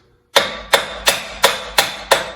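A heavy hammer strikes a CV joint on a 2010 Dodge Grand Caravan, six sharp metallic blows at a steady, even rhythm, each ringing briefly before the next, close and loud with no talking.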